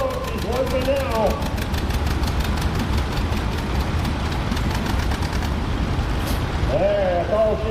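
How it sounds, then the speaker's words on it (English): A John Deere 730 gas tractor pulls at a county tractor pull, its engine roaring steadily and loudly with a rapid pulsing beat, while an announcer talks over it. "John Deere 730 gas tractor."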